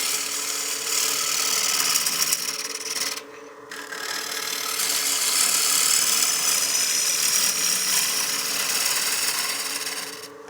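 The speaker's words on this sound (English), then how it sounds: "Go back to my 5/8 bowl gouge, cutting on the bottom edge of the wing again" A 5/8 bowl gouge cuts along the bottom edge of a wooden cake stand spinning on a lathe. The rasping scrape runs steady and close, stops briefly for about a second, then continues alone.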